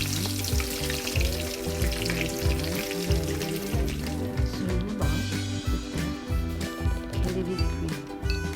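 Potato wedges frying in hot oil, a steady dense sizzle with crackling bubbles running continuously throughout, close and fairly loud, with no talking.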